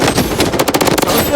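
Rapid automatic M4 rifle fire in the shooter game Project Bloodstrike: a tight, loud burst of closely spaced shots lasting about a second, with game speech faintly present.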